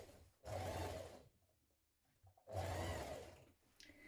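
A sewing machine bastes the neckline of a vintage spring dress in two close bursts of whirring stitching, each about a second long, separated by a quiet pause with light handling of the fabric.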